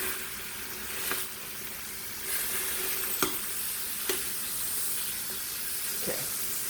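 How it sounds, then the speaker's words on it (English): Pot roast beef searing in an Instant Pot, a steady soft sizzle with a few sharp clicks and taps of a utensil against the pot, close and fairly quiet. "We are just searing it."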